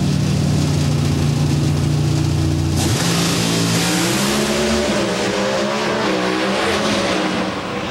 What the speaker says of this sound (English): Oh, Jason has to get out of the throttle